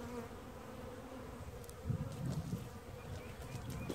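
Honey bees from a package being installed into a hive make a continuous, close, dense buzzing hum that holds steady throughout.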